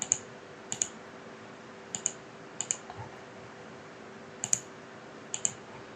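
Sharp mouse clicks while drafting in Revit, arriving singly and in quick pairs at irregular intervals against a quiet room hum, close and crisp with no talking.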